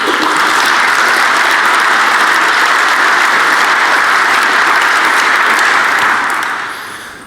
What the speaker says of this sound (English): So if I can get a round of applause for them, that would be great.